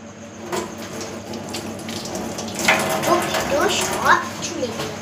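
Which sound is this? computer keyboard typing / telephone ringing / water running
water running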